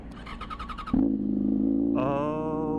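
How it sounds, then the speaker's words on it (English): A 2006 Yamaha FZ6 motorcycle with a loud, ear-piercing exhaust fires up close by: a rough idle, then a sudden sharp burst into a steady roaring drone that climbs in pitch as the revs rise, with a brief exclamation at the start. "This thing's got the loud exhaust."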